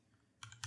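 Two quick, faint keystroke clicks on a computer keyboard, close by with short gaps of quiet.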